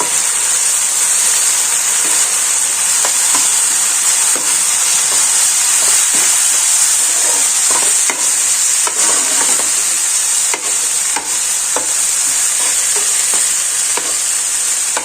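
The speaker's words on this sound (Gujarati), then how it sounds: "મિક્સ કરીશું" Vegetables with soy sauce and red chili sauce for Manchow soup sizzle in a pan under a constant bright hiss, with faint scraping stirs scattered throughout. No one speaks.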